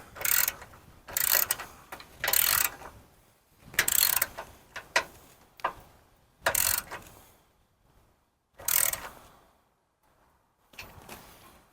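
Bolt being tightened with an 18 mm ratcheting wrench while installing electric running boards on a Jeep JK, a series of short, close ratchet clicking bursts separated by pauses.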